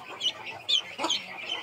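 Chick of the white Aseel breed, roughly forty days old, giving a few faint high chirps while held in the hand, close and quiet against a still background.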